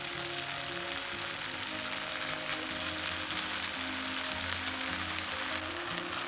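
Fried potatoes sizzling as they are stirred into chilli manchurian sauce in a pan, a dense continuous hiss with faint scraping of stirring underneath, steady and close.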